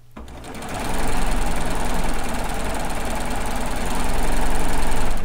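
Serger sewing machine running steadily in overlock mode while stitching a kimono, a continuous close-up whir and rapid needle chatter that starts after a brief pause and holds loud and even throughout.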